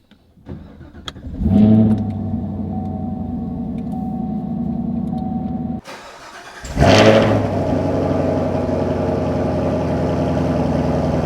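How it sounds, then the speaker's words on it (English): A 2024 Chevrolet Camaro SS 1LE engine cold start: it cranks and catches with a loud rev, settles into idle, then starts again with another sharp rev before a steady rumbling idle. "Here we go, cold start."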